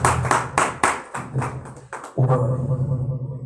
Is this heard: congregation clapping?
yes